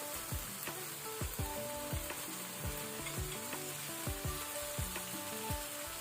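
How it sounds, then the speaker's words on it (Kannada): Marinated mushrooms frying on high flame in a masala of softened tomato, a continuous sizzle with a regular series of scraping stirs from a spoon against the pan, moderately quiet and without speech. "ಈಗ ನಾವು ಫ್ಲೇಮ್ ಅನ್ನು ಹೈಯಲ್ಲಿ ಇಟ್ಕೊಂಡು ಒಂದು 3 ರಿಂದ 4 ಮಿನಿಟ್ ಇದನ್ನು ಫ್ರೈ ಮಾಡ್ಕೊಳ್ಬೇಕು"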